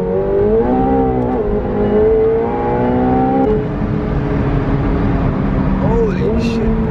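McLaren 675LT sports car engine revving with rising harmonic tones that climb through gears, loud and close, with voices talking over it.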